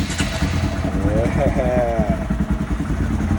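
A Honda S2000 fitted with a Brock-style exhaust runs beneath steady talk, its engine a constant low drone that swells briefly midway.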